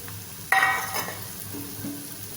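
Two beaten eggs poured into a hot pan, with a sudden loud burst of sizzling that eases into a steady fry and a couple of soft scrapes, heard up close with no talk.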